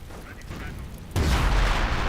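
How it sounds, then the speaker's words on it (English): V1 rocket explosion in Company of Heroes, a sudden heavy boom midway that stays as a deep rumbling roar, following quieter battlefield noise. "What was that explosion again?"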